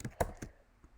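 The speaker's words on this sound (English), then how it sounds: "So I'll type printf" A few quick keystrokes on a computer keyboard, three close, soft clicks in a rapid burst, then a fainter fourth tap, heard alone in a quiet room.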